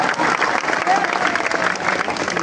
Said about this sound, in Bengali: আমরা কি স্যারের জন্য একটা করতালি দিতে পারি?